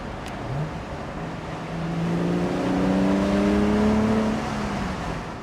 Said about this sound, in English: Has a great exhaust note, which you're going to hear in the flybys.